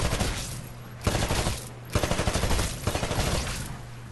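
Rifle fire from Titanfall's tutorial shooting range, with bursts of rapid shots hitting targets separated by brief pauses, loud and close against a steady low game hum.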